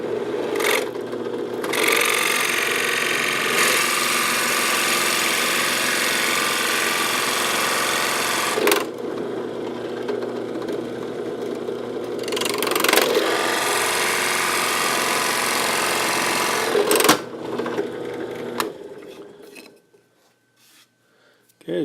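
A cutting blade saws steadily through a fidget spinner blank along a marked inside line, a loud, sustained rasping buzz with brief breaks before it trails off into quiet at the end. No one speaks.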